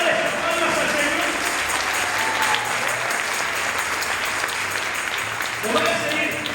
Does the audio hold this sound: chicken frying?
no